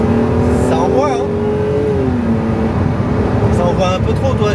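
A Ferrari Testarossa engine revs hard while accelerating along a straight, a loud, rising, strained tone that climbs, drops at a gear change and keeps pulling, with wind and road roar throughout.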